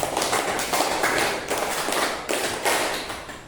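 Classroom group performing two rounds of a four-count clap pattern, a steady series of crisp, loud group claps in rhythmic bursts.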